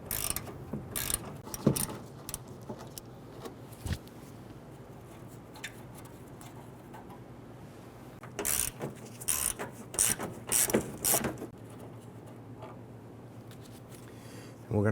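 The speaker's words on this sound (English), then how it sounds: "I'm going to use a socket, an extension, and my 1/4-inch ratchet. I'm going to loosen and remove both of these." Quarter-inch ratchet with socket and extension loosening 10mm bolts on a 2007-2014 Cadillac Escalade front bumper bracket: bursts of close, quick clicking, some isolated clicks and several dense ratcheting runs, with quiet gaps between.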